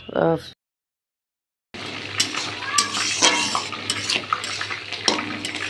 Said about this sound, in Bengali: বিনস গাজর এটা ভাজা হচ্ছে বন্ধুরা